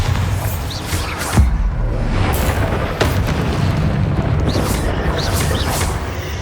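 Booming blasts from the Bombarda spell in Hogwarts Legacy, a few heavy thumps over a constant loud rumbling din of combat.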